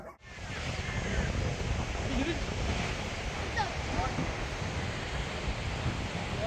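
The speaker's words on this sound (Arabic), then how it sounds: "احنا وصلنا البحر، شوفوا زي ما انتم شايفين" Sea surf rolls onto a beach in a steady, broadband wash that carries on for several seconds, heavily mixed with wind buffeting the microphone outdoors, with no speech heard.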